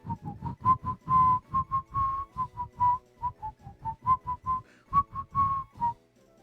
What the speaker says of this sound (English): I can whistle just doing the pursing your lips and blowing out air